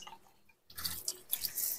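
Liquid is splashed over an engine cylinder head to clean off residue from fake oil, a quiet pause followed by a burst of wet splashing and dripping that runs to the end.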